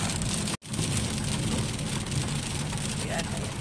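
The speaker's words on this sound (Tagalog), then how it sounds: "Actually, kahapon pa naulan." Steady rain falls on a road in Dubai, a dense continuous hiss that is broken only by a brief dropout, with a faint low rumble of traffic underneath.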